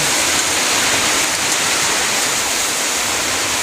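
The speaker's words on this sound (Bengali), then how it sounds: "বৃষ্টির আওয়াজ খুব সুন্দর লাগে টিনের ঘরে যখন পড়ে, ঝিম ঝিম ঝিম ঝিম শব্দ" Heavy rain drums on a tin roof, a loud, dense, unbroken hiss that fills the whole stretch with no talking.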